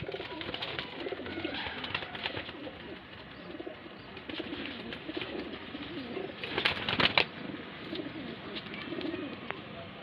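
Bareilly-breed highflyer pigeons cooing softly amid a steady outdoor background, with a louder flutter of activity partway through.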